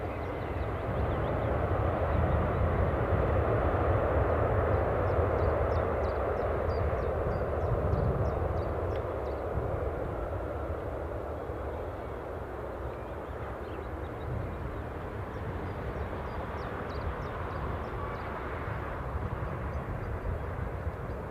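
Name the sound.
delayed incoming flight from Bristol, aircraft engine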